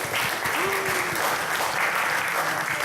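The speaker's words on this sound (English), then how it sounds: "big round of applause to all of you" Steady, loud applause from a crowd fills the whole stretch, a dense wash of clapping without pause.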